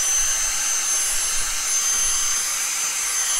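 A handheld vacuum with a bristle brush attachment dusting LEGO bricks, a loud steady high-pitched whine running unbroken and close throughout.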